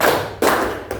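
A classroom of students claps hands together in a rhythmic clap game, two distinct group claps spaced about half a second apart, each a short sharp burst that decays quickly.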